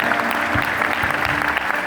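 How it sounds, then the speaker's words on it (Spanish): A short burst of applause from a church congregation at a Christian service, dense clapping that holds steady throughout. "Denle un aplauso al Señor."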